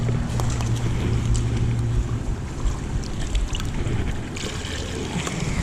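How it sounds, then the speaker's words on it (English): Creek water rushes and gurgles steadily as a bait bucket is filled outdoors, a loud, close, continuous wash with faint splashing throughout. "So we're just gonna go ahead and fill this up with the water from the creek."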